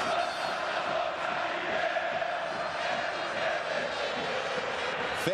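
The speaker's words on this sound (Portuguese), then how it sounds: "quem canta mais forte, quem canta alto é a torcida do Grêmio" Grêmio supporters singing and chanting in the stands at the Copa Libertadores 2017 final in Lanús, Argentina: a dense, sustained crowd chant from far across the stadium, with a commentator talking over it.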